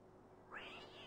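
A cat in the PS1 video game Mulan meows once when sponged, a short rising meow arriving midway after a quiet start, close and clear.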